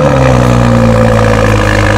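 A BMW E46 M3 engine running steadily at a loud, close idle with a smooth, even hum and no speech over it.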